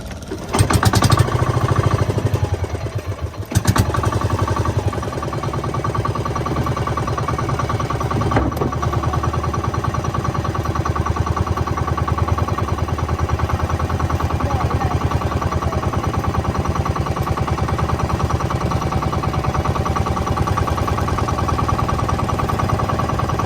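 A boat engine running steadily at sea, a constant droning hum that stays loud and even, with a few brief clunks and bumps near the start.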